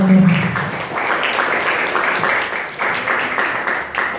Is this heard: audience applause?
yes